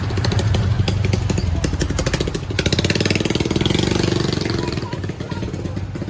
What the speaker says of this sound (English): Extremely loud motorbikes and speeding pose a significant danger to visitors